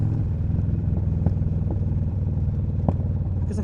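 Steady engine drone of a Kawasaki Mean Streak 1600 motorcycle cruising on a highway, a continuous rumbling hum with faint clatter and no talk.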